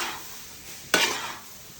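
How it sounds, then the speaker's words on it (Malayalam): Egg fried rice with pepper and soy sauce being stirred in a pan, a quiet sizzle broken by one sharp, loud scrape of the spatula midway, close up. "ഇനി നമുക്കിത് നല്ലപോലെ മിക്സ് ചെയ്ത് സെറ്റാക്കി എടുക്കണം."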